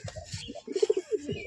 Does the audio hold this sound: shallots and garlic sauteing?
no